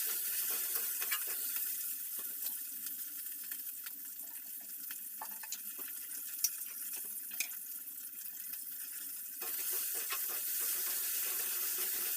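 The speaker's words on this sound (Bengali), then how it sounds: "ফোড়নে পেঁয়াজ দিয়ে দিচ্ছি পেঁয়াজটা ভেজে নেবো" Onions frying in tempering oil in a village home kitchen give a steady, close sizzling hiss that runs unbroken for the whole stretch, with no voices.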